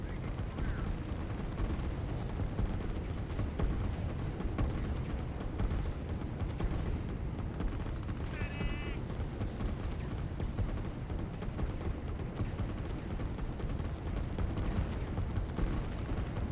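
Dense, continuous rumble of massed artillery fire in the strategy video game Line War, a steady barrage of distant booms mixed into the game audio, with commentators talking over it throughout.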